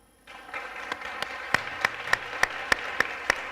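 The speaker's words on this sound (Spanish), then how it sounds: "Ahora va a haber firma y pediros un aplauso para Mazen." Audience applause at a book presentation in a cultural foundation hall, starting suddenly and settling into steady clapping with a few sharper individual claps standing out.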